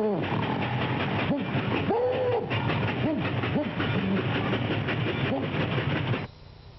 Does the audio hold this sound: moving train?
yes